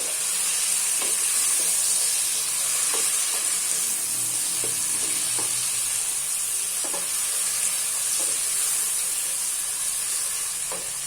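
Mutton pieces fry in a pot for pulao, giving a steady loud sizzle and hiss throughout, with occasional soft scrapes of stirring and no talk.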